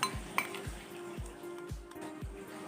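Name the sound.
stirring fish bait mix with fish oil and sago worms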